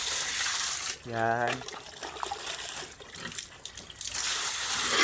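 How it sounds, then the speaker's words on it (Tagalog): Water is poured out for pigs after their feeding, a brief gurgling fill with rising pitch, set against a murmur of background noise, with someone talking around it. "lagyan natin ng tubig mga kababoy"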